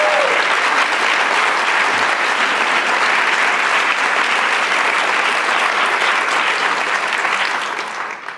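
A lecture audience at a public symposium on urban education claps loudly and continuously, a dense sustained burst of applause that fades out near the end.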